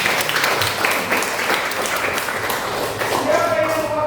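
A classroom group applauds. The clapping is dense and sustained for about four seconds, with voices mixed in underneath.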